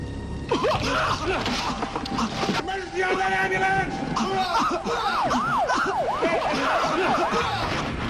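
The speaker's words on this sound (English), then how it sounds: "Emergency on that ambulance!" An ambulance siren wails with rising and falling sweeps, loud and close, mixed with heavy background noise and voices under it, during a horror movie scene.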